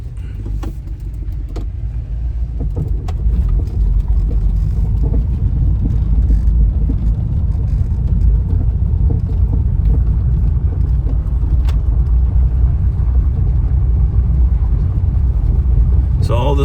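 Steady low rumble of road and engine noise inside a car driving on a hot day, loud and constant for the whole stretch, with a few faint clicks and no clear talk.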